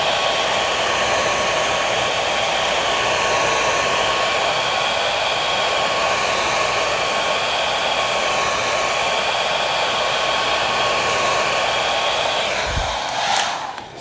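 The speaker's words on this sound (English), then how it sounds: "It's going to take a little bit longer with the hair dryer" A hair dryer blows steadily and loudly on vinyl wrap being heated and stretched over a PlayStation 5 console, a continuous broadband whoosh with no talking, cutting off abruptly near the end.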